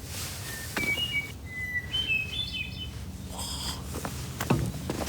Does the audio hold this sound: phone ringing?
no